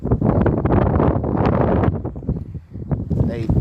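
Strong wind buffets the microphone while bass fishing from a boat, roaring and gusting beneath a man's speech throughout.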